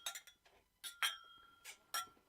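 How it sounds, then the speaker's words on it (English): Glasses clink together in a toast during a live whiskey event, with several bright, ringing chinks in quick bursts, some with a lingering tone, close by and without speech over them. "Clinking the glass."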